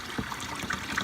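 Cool tap water runs and trickles into a measuring cup, rinsing out leftover soap; a steady close splashing stream with small gurgles, no voices.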